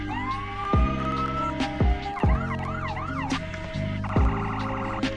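A car's emergency siren in the Roblox game Greenville, loud and continuous with wailing and yelping sweeps and several sharp low thumps, heard alone with no speech.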